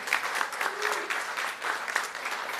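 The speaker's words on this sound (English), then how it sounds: "Let's give her a round of applause." Crowd applause at a Juneteenth Jubilee celebration, a continuous patter of many hands clapping at moderate distance with scattered louder claps, steady throughout with no speech on top.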